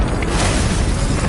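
Bombarda explosion spell blasting in the video game Hogwarts Legacy, a loud, dense burst of boom and crackle filling the whole moment with no pause.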